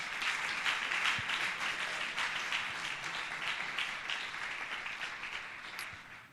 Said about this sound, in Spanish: ¿Cuánto le pueden dar un aplauso a nuestro Dios en esta noche?